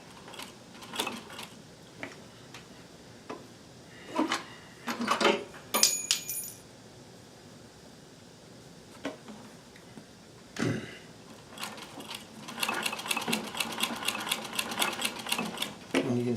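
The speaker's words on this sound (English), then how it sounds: "So here we are sewing the sleeves." A sewing machine with a walking foot sews thick, wadded bomber jacket sleeves in short, rapid bursts of stitching separated by quiet pauses, with a longer steady run of stitching near the end.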